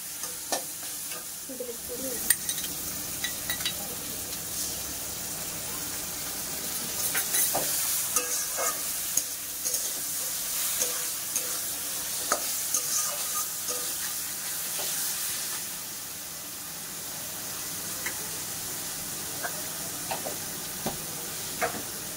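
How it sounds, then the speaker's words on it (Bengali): Spice paste for a katla fish curry with potato is stirred and fried in oil, giving a steady sizzling hiss under repeated scraping and knocking of a spatula against the pan, close and continuous, with no talking. "ভালো করে নেড়ে চেড়ে নিচ্ছি, ভালো করে কষে নেবো"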